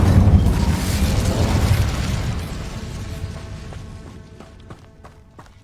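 Incendio fire spell cast in the Hogwarts Legacy video game: a loud booming burst of flame that rolls and fades over several seconds, ending with a few faint crackling pops, with no talking.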